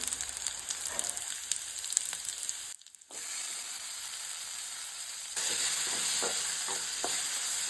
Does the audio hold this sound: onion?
yes